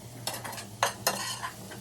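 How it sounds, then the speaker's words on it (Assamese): Onions frying in oil in a restaurant kitchen make a close sizzle, broken by several bursts of stirring and scraping against the pan. "এইফালে পিঁয়াজ ভাজি আছে এতিয়া।"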